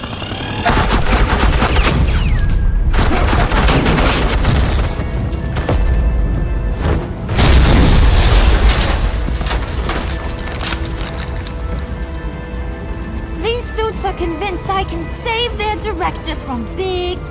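Heavy suppressing gunfire in Telltale Batman: The Enemy Within, dense rapid bursts of loud shots rolling on for many seconds, with later tail-off and faint talk underneath.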